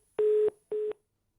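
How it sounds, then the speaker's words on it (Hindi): Telephone busy tone after a call disconnects: two steady electronic beeps of the same pitch, the first slightly longer, then silence. "फोन डिस्कनेक्ट हो गया।"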